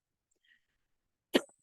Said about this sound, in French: je tousse encore un tout petit peu